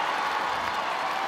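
A figure skating crowd applauds after a free program, dense steady clapping throughout, loud and unbroken.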